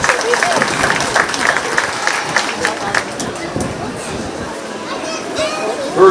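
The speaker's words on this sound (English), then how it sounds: "Let's give all those kids a big round of applause." An audience at a 4H/FFA sheep show at the Shelby County Fair applauds the kids, a moderate wash of scattered clapping blended with crowd chatter and children's voices.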